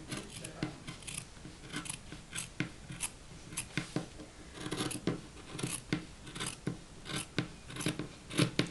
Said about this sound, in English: I said, terrible scissors.